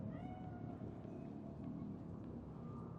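A cat meows in the Cyberpunk 2077 video game, a drawn-out faint cry under a low rumbling city ambience.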